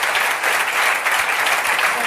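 A comedy club audience breaks into loud, sustained applause for the comedian Patrice O'Neal, a dense steady wash of clapping close by with crowd noise mixed in.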